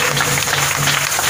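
A church congregation applauds in a brief, dense burst of clapping.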